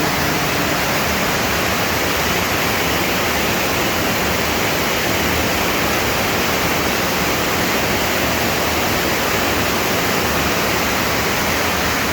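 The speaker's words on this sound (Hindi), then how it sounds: "कहाँ से शुरू हो रहा है, कहाँ जा रहा है ये झरना" A forest waterfall swollen by the monsoon pours down in a constant, loud, unbroken roar of rushing water, steady from start to finish, with no voices over it.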